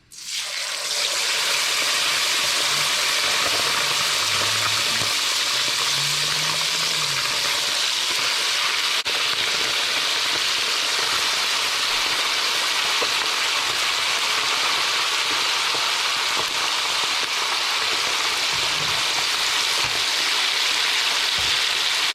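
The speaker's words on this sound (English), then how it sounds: "They're going to sizzle and carry on a bit because of that moisture." Chicken wings for Indonesian ayam goreng asam frying in hot oil, a loud, dense, steady sizzle and crackle that runs unbroken from start to finish, close and alone with no talk.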